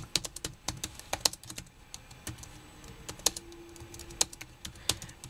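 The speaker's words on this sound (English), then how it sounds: "I'm typing something." A computer keyboard clicks under quick typing, irregular bursts of sharp keystrokes, close and fairly soft, with no voices.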